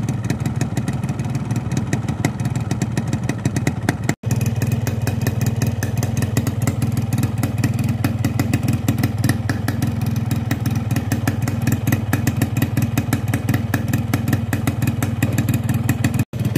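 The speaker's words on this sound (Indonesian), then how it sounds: "Pagi-pagi mesin baru nyala." A Yamaha Win 2T Plus two-stroke motorcycle engine, started cold in the morning, runs steadily with a buzzing, crackling idle. The sound is loud and close and nearly continuous, broken by two very short dropouts.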